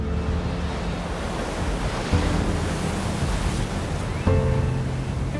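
Steady roar of surf and breaking waves on a vast beach backed by dunes on Anglesey, continuous and fairly loud, with wind noise and a low hum.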